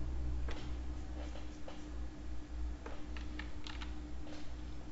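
Keys on a computer keyboard are tapped in a soft, irregular scatter of clicks during work in Flash animation software, faint and close, over a steady low electrical hum.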